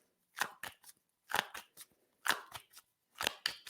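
Tarot cards shuffled in quick handfuls, four short bursts of riffling and snapping about a second apart, close and crisp with brief silences between, no talking.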